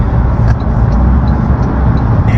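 A 2026 Toyota Camry SE hybrid accelerating at half throttle on a highway commute, with a loud, steady low engine and road drone heard from inside the cabin, no talk.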